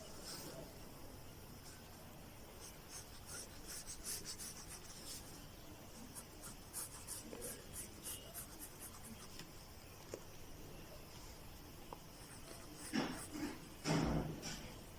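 Pencil sketching a simple flower pot on paper: soft, close scratching and rubbing strokes in short irregular bursts, faint overall, with a couple of louder rustles near the end.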